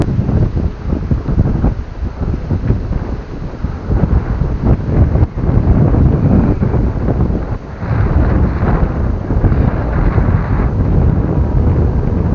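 Strong gusty wind batters the microphone outdoors where kites are flown, loud buffeting rumble rising and falling in waves across the whole stretch.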